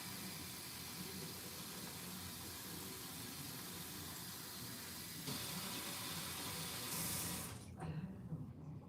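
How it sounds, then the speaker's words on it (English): Tap water runs steadily into a cooking pot of greens with meat, a continuous close hiss that shifts in tone near the end as the flow stops. "Let me put some water."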